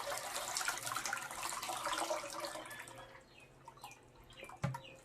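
Sago water being strained for washing a saree makes a soft watery trickle and pour with small drips and splashes, faint and close, ending with a brief clunk.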